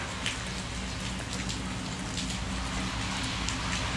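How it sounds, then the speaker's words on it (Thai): Rain falls steadily outdoors beside a busy road, a dense even patter with scattered drips, traffic rumbling low underneath throughout. "น้ำฝนเขาก็จะหยดติ้งแล้วก็มืดครึ้มเชีย"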